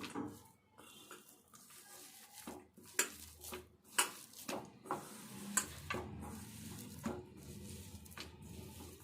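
Lentil batter being mixed by hand in a bowl, a close, quiet run of irregular wet stirring and squelching with scattered clinks against the bowl, no talking.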